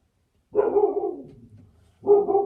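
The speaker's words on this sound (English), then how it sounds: "Dog's home alone upstairs today." A dog left home alone barks from upstairs: two short, muffled barks about a second and a half apart, heard indoors at moderate distance with silence between them.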